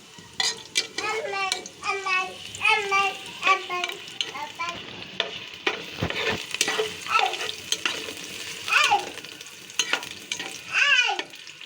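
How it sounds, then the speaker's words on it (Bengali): Chopped onion frying in oil in a pan for a chicken and turnip curry, sizzling with spatula scrapes and clinks against the pot, and a voice speaking intermittently over the cooking. "তেল দিয়ে দিলাম পরিমাণ মতো। এখন দেব পেঁয়াজ কুচি।"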